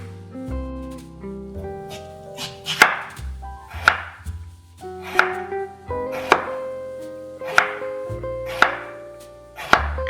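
A knife chops white radish on a cutting board in steady, evenly spaced strokes, each a crisp close knock with a short crunch. Roughly ten cuts come at a slow rhythm with quiet gaps between.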